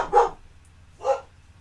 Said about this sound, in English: Those are our dogs.